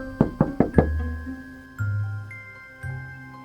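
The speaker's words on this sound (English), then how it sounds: "Sounds like someone's at the door again." Four quick, sharp knocks on a door land in rapid succession, then a few duller, heavier thuds follow after a pause, in a quiet indoor scene from a scary film.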